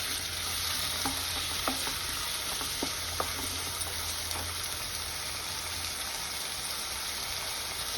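Chopped tomatoes sizzle and fry steadily in a pan for pasta, with occasional light stirring clicks over the continuous crackle.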